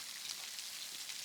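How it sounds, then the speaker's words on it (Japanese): Heavy rain from a night storm in the video game Pentiment makes a quiet, continuous hiss with soft raindrop texture and no speech. "思いっきり雨降ってますしね"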